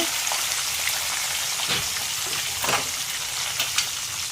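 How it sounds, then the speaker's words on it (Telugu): Mustard seeds, urad dal and asafoetida fry in hot oil for a tempering poured over a Telugu chutney, giving a steady, close crackling sizzle with small pops scattered throughout. "ఈ పచ్చట్లో చక్కగా తాలింపు పెట్టేసుకుందాం"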